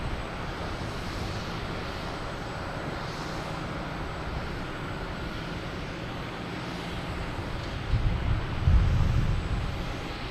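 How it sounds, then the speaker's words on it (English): A Cape Air plane arriving from Martha's Vineyard at Boston Logan Airport produces a faint, distant engine drone under general airport ambience, with a brief louder low rumble near the end. "We got a Cape Air coming in from Martha's Vineyard"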